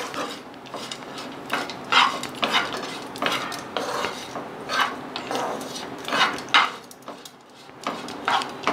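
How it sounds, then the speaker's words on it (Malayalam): Spoon stirring lemon rice in a pan, making repeated close scraping and soft clinking strokes against the metal in an uneven rhythm. "എന്നിട്ട് നന്നായിട്ട് ഇളക്കി കൊടുക്കാം."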